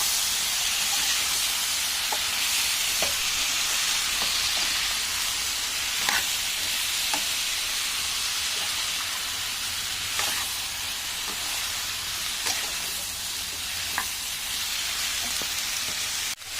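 Soaked, squeezed soya chunks fry with vegetables in a hot pan, giving a steady loud sizzle and hiss. Faint stirring clicks and scrapes recur throughout.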